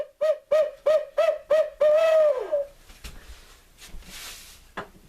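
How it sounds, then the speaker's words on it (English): A cheap $2 owl hooter, used as a turkey locator call, blows five short, evenly spaced hoots and then one long, drawn-out hoot that falls at the end. A few faint clicks and a brief rustle follow. "This is another type of owl hooter."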